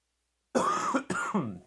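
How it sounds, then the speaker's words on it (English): A single harsh, raspy cough close to the mic, a drawn-out hack breaking into two shorter bursts. "there's that ugly cough."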